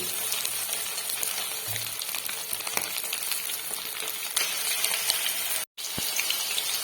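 Chicken pieces fry in hot oil for Mangalore-style chilli chicken, giving a continuous close sizzling hiss with faint clinks and one short break.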